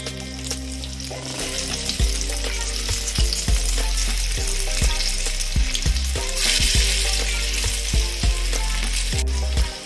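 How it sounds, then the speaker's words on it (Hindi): Pieces of spinach vadi deep-fry in hot oil over a medium flame, with a loud, continuous bubbling sizzle and repeated sharp pops and crackles throughout. "ऑयल हमारा गरम हो गया है और इसे हम मीडियम फ्लेम पे फ्राई करेंगे।"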